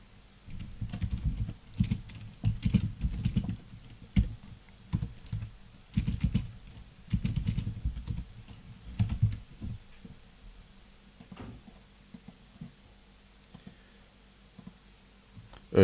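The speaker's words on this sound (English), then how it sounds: "So I'll just type up this program." Typing a MATLAB program on a computer keyboard, steady runs of close, rapid keystrokes in bursts with brief gaps, thinning out toward the end.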